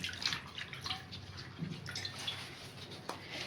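Colocasia leaves washed one by one in water for aluwadi, with soft, close splashing and dripping that comes in uneven bursts.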